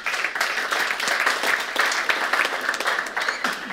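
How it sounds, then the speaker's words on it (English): Audience applause at a church gathering, a full, fairly loud patter of many hands that keeps a steady texture with slight swells throughout. "Give yourselves a round of applause for that."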